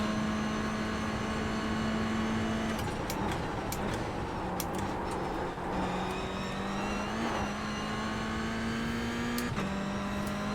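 Engine of a Toyota GR86 or Mazda MX5 race car on the Charlotte Roval during a multiclass touring championship race, a steady loud drone heard from the driver's seat with pitch rising and dropping through gear changes and brief sharp clicks.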